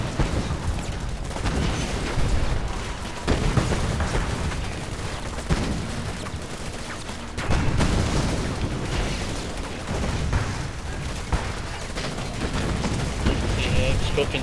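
Command & Conquer 3 battle with rifle squads, missile squads and Predator tanks: dense continuous gunfire and explosions fill the whole stretch, loud and unbroken, with steady rattling volleys.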